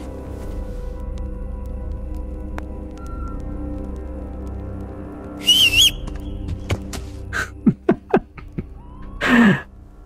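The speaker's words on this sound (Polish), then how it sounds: "Gwizdania chyba się nie wystraszy." Someone whistles at night in the Kingdom Come: Deliverance video game, a few short wavering whistled notes amid sparse clicks and knocks over a quiet low hum.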